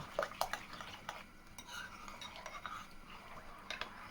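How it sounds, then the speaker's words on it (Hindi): A spoon stirring naan batter in a bowl, giving soft scraping and clinking taps, a few sharper knocks early on, then quieter swirling strokes close by. "उसको फिर हम अच्छे से इसमें चम्मच से मिक्स करते जाएंगे"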